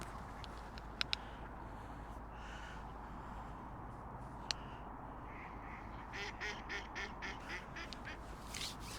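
Ducks quack intermittently on a winter fishing lake, fairly faint and a little distant, with several short calls clustered toward the end over a steady outdoor background hiss.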